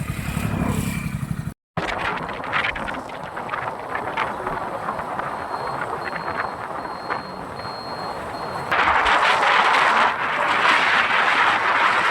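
A motorcycle ride sounds as a steady engine drone mixed with heavy wind buffeting the microphone, cut by a brief dropout early on, then growing louder and rougher toward the end.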